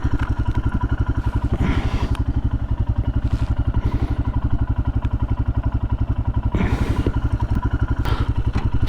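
A Royal Enfield Himalayan motorcycle climbs a hill with a steady, close single-cylinder thump that pulses evenly throughout and carries some light mechanical clatter.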